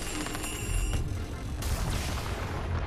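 A rocket exploding in the Fortnite video game, a dense continuous roar of booming, crackling blasts that stays loud throughout with a sharp fresh burst partway through.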